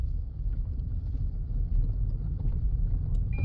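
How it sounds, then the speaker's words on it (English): A Toyota semi-automatic (MMT) car engine catching without the starter motor while the car rolls in gear, giving a steady, close, low rumble that swells slightly toward the end. "Engine start cranking, turn on."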